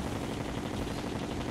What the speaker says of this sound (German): da kommen diese ganzen Schüsse raus